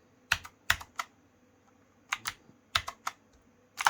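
Individual keys pressed on a Razer BlackWidow V4 Pro keyboard: crisp, close clicks arriving in small sparse clusters with quiet pauses between, no talking over them.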